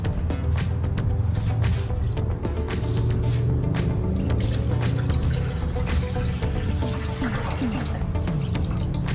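Water pours and splashes into a crock pot in a steady stream, with gurgling and dripping throughout, fairly close and continuous.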